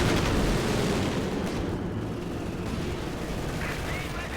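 Dense gunfire strikes a Panzer IV tank in Company of Heroes 2 over a constant low rumble of battle, with rapid shots and impacts layered throughout and no clear pauses.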